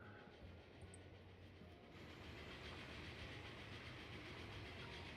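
A French train in the Transport Fever 2 video game rumbles past with a steady rolling roar of wheels and carriages, continuous and fairly loud throughout with no voices.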